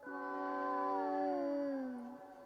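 A single low, drawn-out moaning wail that slides downward in pitch: a real cat's yowl slowed down to a low frequency, lasting about two seconds.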